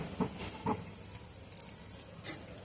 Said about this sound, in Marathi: छोटी वाटी शेंगदाणे होते ते पण तळून घेत आहे